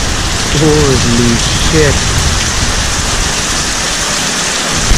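Heavy rain pours steadily near Mirissa Beach, a loud, dense, unbroken hiss of drops on surfaces close by, with a brief exclamation from a man early on.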